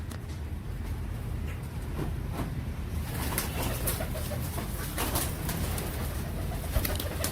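Royal Teddy pigeons coo in a low, continuous rolling murmur, close and steady throughout, with scattered light clicks and rustles of birds moving.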